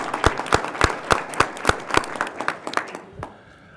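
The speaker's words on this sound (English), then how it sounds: "How about a round of applause for them?" Applause at a university board of trustees meeting, loud, sharp individual claps in a fairly regular rhythm from a modest group, thinning out and fading toward the end.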